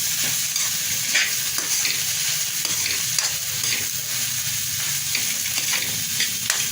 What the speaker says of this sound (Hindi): ये जो हमने मसाला बनाया था तो 1 से 2 मिनट के लिए बस हमें पकाना है